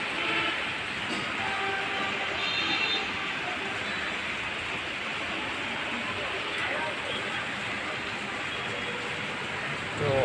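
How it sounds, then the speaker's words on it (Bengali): Morning rain falling on a garden, a steady broad patter and wash of drops continuing throughout at moderate level, with faint intermittent tones mixed in behind it. "কত সুন্দর বৃষ্টি হচ্ছে"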